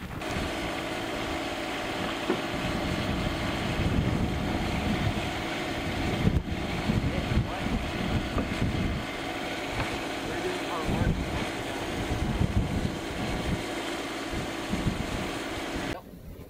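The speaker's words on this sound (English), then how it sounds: "I'm gonna bring the tractor forward." A steady tractor engine drones continuously near the microphone, with low rumble and some wind buffeting throughout, no pauses.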